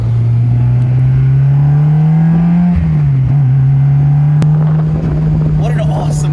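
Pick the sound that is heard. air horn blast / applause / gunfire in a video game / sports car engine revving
sports car engine revving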